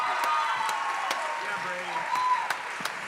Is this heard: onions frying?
no